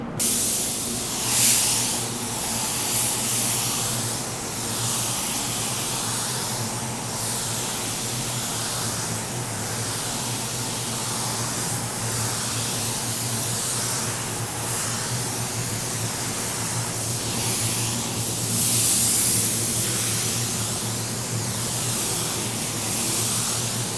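A paint spray gun hisses continuously while laying down a pearl white coat on a car, the close, loud airy spray swelling and easing in regular passes over a low compressor hum.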